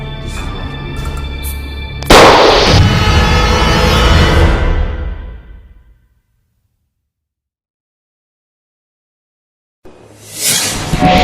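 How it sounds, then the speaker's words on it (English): Gunfire in a Nollywood drama scene: a sharp, loud burst at about two seconds trails into a dense rumbling wash that fades out, then silence before another abrupt loud noise returns near the end. "Fidel, drop that gun."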